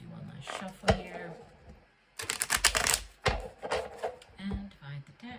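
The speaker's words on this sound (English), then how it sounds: "we'll do one last shuffle here" A deck of tarot cards being shuffled by hand in a quiet room, giving a burst of papery riffling and flicking that runs for a couple of seconds between softer handling sounds, close and moderately loud.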